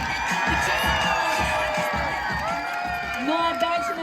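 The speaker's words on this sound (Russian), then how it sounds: "Ваши аплодисменты!" Summer camp audience at an evening campfire show cheering, whooping and clapping in a continuous crowd roar, with children's shouts and a brief loud voice near the end.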